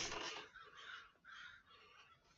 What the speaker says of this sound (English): See all the birds I saw?